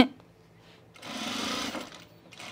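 A sewing machine stitches a thick seam on chino pants where the belt loop joins, one quick burst of motor whirring and needle chatter for under a second, set between quiet pauses.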